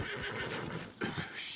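A horse in Red Dead Redemption 2 gives a loud, close neigh over steady wind-like ambience, with a brief snort or hoof sound near the end.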